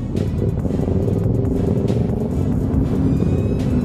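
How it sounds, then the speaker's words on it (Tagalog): Loud, continuous exhaust drone and engine rumble from motorcycles at a racing bike festival, steady and close throughout with no talk. "Hindi ko pa naririnig yung sarili ko dahil sa exhaust nito"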